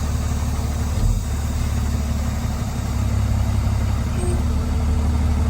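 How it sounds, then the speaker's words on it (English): A large truck's engine rumbles steadily as it creeps forward at about 5 miles per hour, a continuous idling drone with no voices over it. "I'm going to move my truck forward."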